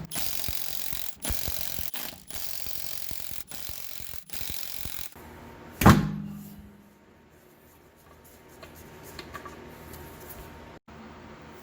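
Ratchet wrench loosening 22 mm lug nuts on a rear wheel of a 2005-2010 Honda Odyssey EX-L, heard as a run of close, rapid clicking bursts followed by a single sharp metallic clank and a quieter tail.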